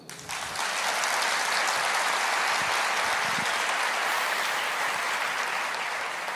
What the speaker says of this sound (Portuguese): Pode aplaudir o Senhor